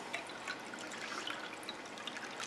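Nearly a cup of water is poured into a blender of soaked dates for a ginger date dressing, making a steady close trickle and splash that runs evenly from start to end.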